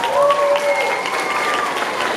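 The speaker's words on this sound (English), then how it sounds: "Mr. Diego, let's give him a round of applause." Audience applause for a judge at a school math competition for fifth and sixth graders, a steady wash of clapping that holds for the full clip.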